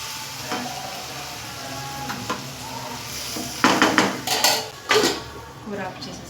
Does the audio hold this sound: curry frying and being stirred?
yes